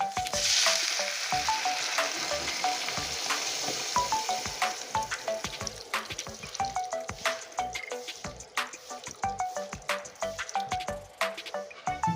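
Water hits a hot pan of taro and fish-head curry, setting off a loud burst of sizzling and bubbling that settles into dense crackling with many small pops and spatters, close and continuous.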